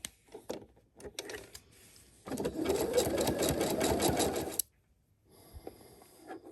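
A sewing machine runs a wide zigzag stitch at 4.0 width in a single steady burst of a couple of seconds, framed by quiet clicks and handling sounds before and after.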